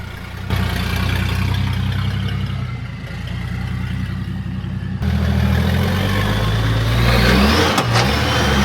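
A big turbocharged TD42 engine in a car on a track drones loudly and steadily, then climbs in a rising rev toward the end, heard close with no talking.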